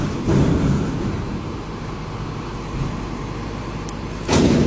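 A garbage collection truck idling and pulling away, its low engine rumble steady at mid distance, with a couple of thumps and a brief louder surge near the end.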